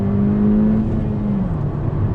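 A 2019 Honda Civic Si engine drones steadily close up, its tone holding and then easing downward over about two seconds, loud and continuous with no voices.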